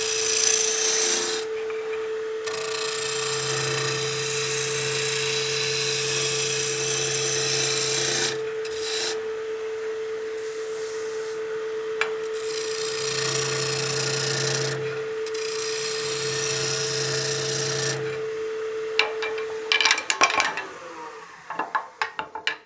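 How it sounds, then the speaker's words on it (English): A spindle roughing gouge cuts a wooden baseball bat spinning on a wood lathe. The motor holds a steady hum under long bursts of harsh rasping as the tool bites the wood, with brief pauses and rattling clicks at the end. "Spindle roughing gouge is the perfect tool for this kind of project."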